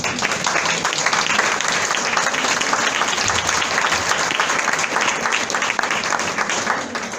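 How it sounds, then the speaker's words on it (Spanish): A church congregation applauds loudly and steadily throughout, a dense, even roar of many hands clapping together with no pause. "Dale un fuerte aplauso al Señor"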